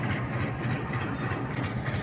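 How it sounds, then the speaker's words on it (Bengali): A diesel-powered six-carriage passenger train at Rajbari station gives a continuous deep, steady engine rumble, close and unbroken, with no talking. "এই যে 6 বগির একটা ট্রেন। এটা ইঞ্জিন সাইড,"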